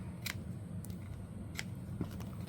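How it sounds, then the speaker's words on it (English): Scissors snipping off extra paper edges in a craft project, four or five faint, short crisp cuts spaced irregularly over a soft background hum. "we're just going to cut these extra edges off"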